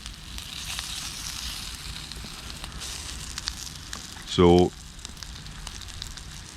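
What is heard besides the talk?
food frying in a collapsible nonstick camping pan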